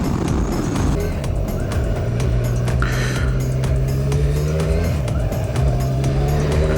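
A motorcycle accelerates hard toward 100 km/h, its engine note climbing in steady rising sweeps through successive gears, loud and close with wind and road rush throughout.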